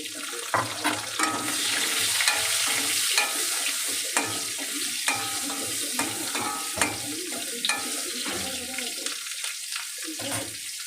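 Mango pieces with chopped green chillies fry lightly in a pan for a sour dal, a continuous sizzle broken by frequent clinks and scrapes of stirring.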